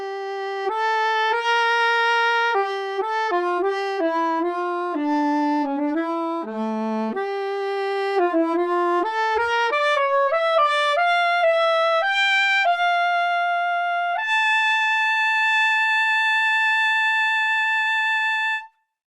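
A Mojo 2 virtual saxophone plays a solo melodic line with simulated vibrato, stepping through held and quick notes and ending on a long sustained tone, loud and close, with no talking.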